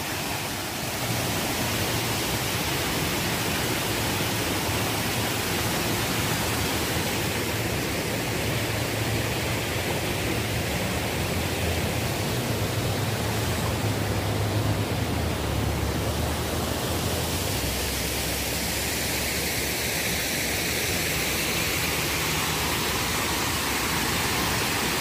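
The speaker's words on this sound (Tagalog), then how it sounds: "Ingay, ang ingay ng agos ng tubig." Water rushes steadily and loudly as a constant broad hiss, a fountain pouring, unbroken for the whole stretch and without voices.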